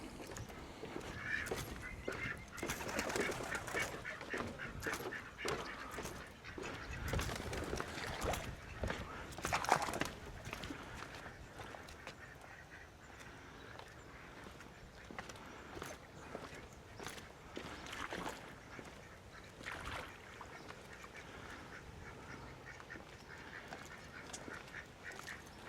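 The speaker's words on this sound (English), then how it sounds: "Oh, they're only ducks." Ducks quack faintly at a distance in Parque del Andarax, Almería, scattered over a quiet outdoor background with occasional footsteps.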